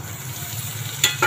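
Stuffed brinjal sautéing in hot oil in a pan, a steady low sizzle running throughout with a couple of brief sharper stirring scrapes near the end.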